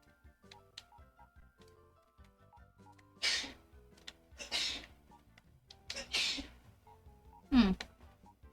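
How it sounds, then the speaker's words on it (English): Someone sneezes in a kitchen, about four sharp bursts spaced a second or so apart, heard from a distance over quiet game music and faint ticking. "My brother was sneezing in the kitchen."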